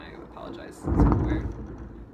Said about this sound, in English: I don't know if you guys can hear like the thunder in the background.